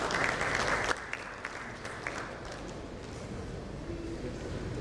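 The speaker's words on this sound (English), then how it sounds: "A big round of applause for KAMLESH" Audience applause for a panelist at a panel session: a burst of crowd clapping that quickly thins into scattered claps over a murmuring hall, fairly distant.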